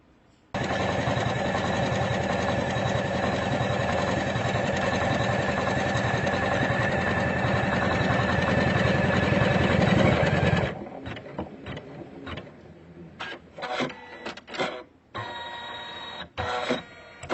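An Usha Janome Memory Craft 550-E embroidery sewing machine runs in a loud, steady mechanical whir for about ten seconds, then stops, leaving short bursts of clicking and thread-cutting sounds.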